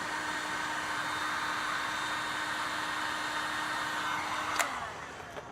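A heat gun blows hot air over a solder heat-shrink sleeve, a steady rushing whir that cuts off near the end and leaves a couple of faint clicks.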